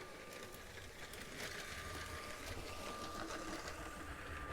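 Motorized LEGO Metro train running along its track, a steady mechanical whirring with a fine rapid rattle, fairly faint and continuous, rising slightly in level midway.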